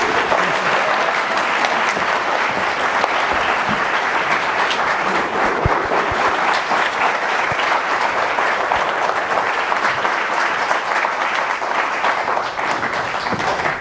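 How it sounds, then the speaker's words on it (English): An audience at a lecture on American paintings and sculpture breaks into sustained, dense applause to welcome the speaker. The clapping is loud, even and continuous for nearly fourteen seconds, with no voices over it. "let's give a big Memphis cheer, big welcome to Diane DeMell Jacobsen."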